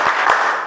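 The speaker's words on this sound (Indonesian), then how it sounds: "kita tutup kegiatan hari ini dengan semangat melalui tepuk IPS ya" A classroom group performs the rhythmic IPS clap to close a social studies lesson, loud nearby claps in a quick pattern packed into less than a second.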